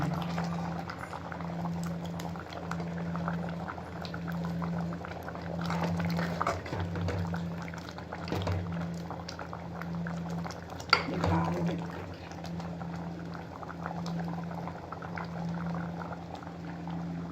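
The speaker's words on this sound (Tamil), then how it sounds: "நல்லா கொதிக்குது" A pot of white pumpkin sambar boils at a steady simmer, soft continuous bubbling with a faint hum underneath and one sharp clink partway through.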